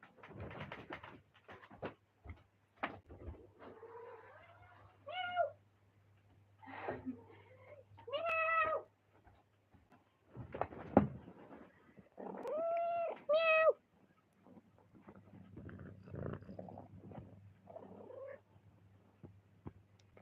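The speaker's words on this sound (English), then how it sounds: "She's got like a very quiet meow" A cat gives a few soft, short meows spaced apart in a quiet room, with faint rustling and a low steady hum.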